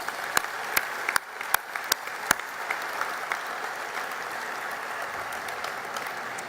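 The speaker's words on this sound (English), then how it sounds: "all of you deserve a round of applause as well" An audience at a morning event applauds in a steady, moderate wash of clapping, with several sharp, close individual claps standing out at a regular beat during the first seconds.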